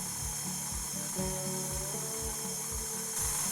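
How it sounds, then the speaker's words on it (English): Stand mixer with a paddle attachment on its slowest speed working sourdough ciabatta dough, a steady motor whir with a regular rhythmic thump and knock as the paddle turns, loud and continuous. "using the paddle attachment, not the dough hook, start the mixer on the slowest speed for 1 minute"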